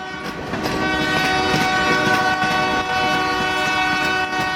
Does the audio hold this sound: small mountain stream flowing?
no